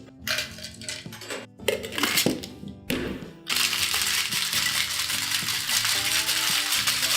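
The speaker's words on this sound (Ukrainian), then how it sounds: "І тепер додаю лід і знову шейкую." Ice rattles hard inside a cocktail shaker, close and loud, with a few separate jolts at first and then a sustained, rapid, continuous shaking.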